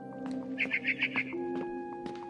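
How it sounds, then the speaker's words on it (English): A barn swallow chirps in the video game What Remains of Edith Finch, a quick run of five or six bright twittering notes over a steady ambient hum, close and clear with no speech. "Then I heard chirping outside my window."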